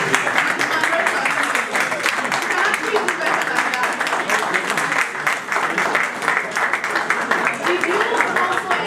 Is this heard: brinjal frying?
no